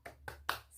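Children's spirit clap in an Indonesian primary-school religion lesson, three sharp claps in quick rhythmic succession, close and fairly faint with a low hum beneath.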